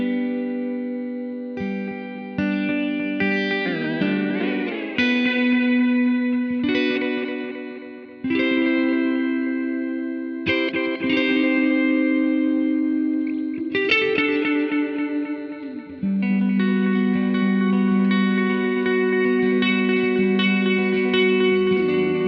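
Electric guitar through a Blackstar Amped 2 amp with shimmer delay, picked notes and chords blooming into washy, octave-tinged echoes that sustain and overlap continuously, fairly loud and without talk.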